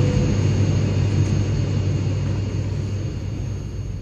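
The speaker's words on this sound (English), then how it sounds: "You see that plane?" A plane passes high over open countryside in Bosnia and Herzegovina, its steady broadband engine roar filling the whole stretch and slowly fading.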